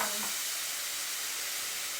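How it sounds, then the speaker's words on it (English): Sauce hits a hot pan of Japanese eggplant and sizzles loudly, a steady close frying hiss with a faint stirring scrape at the start and no talk. "now I'm going to put the sauce."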